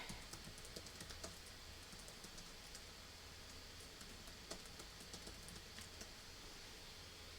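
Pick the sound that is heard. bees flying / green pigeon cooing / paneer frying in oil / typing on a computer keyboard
typing on a computer keyboard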